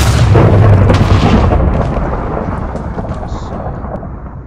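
Gunpowder weapon firing in Balkon's Weapon Mod for a video game, a heavy booming blast that opens loud and rolls off into a long decaying rumble, alone with no talk.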